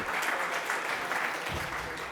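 Crowd at a technology conference opening keynote in Sydney applauds in a broad, continuous wash of clapping, moderately loud and steady across the whole moment.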